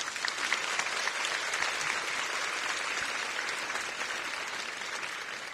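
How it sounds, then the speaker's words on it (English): An audience at a talk on child exploitation breaks into sustained applause for law enforcement officers, an even wash of clapping heard alone at moderate distance. "Let's give them another round of applause"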